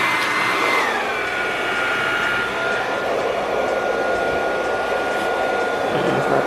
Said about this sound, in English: It's connected to the blow dryer, and you turn the blow dryer